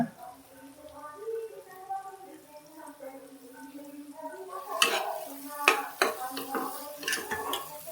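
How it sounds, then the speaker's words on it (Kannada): Puliyogare rice being stirred and mixed with salt in a pot, a spoon scraping and clinking against the vessel in irregular strokes that grow louder and sharper toward the end, with a soft voice speaking underneath. "ಈಗ ಚೆನ್ನಾಗಿ ಮಿಕ್ಸ್ ಮಾಡಬೇಕು ತಕ್ಕಷ್ಟು ಉಪ್ಪು ಹಾಕೊಳ್ಳೋಣ"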